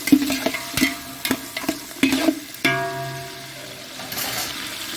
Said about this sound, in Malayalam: ഉള്ളി, മറ്റേ മുളക്, ക്യാപ്സിക്കം, ക്യാരറ്റ് എല്ലാം ഇട്ട് കൊടുത്ത് ഇനി അതൊന്ന് വാട്ടിയെടുക്കുക.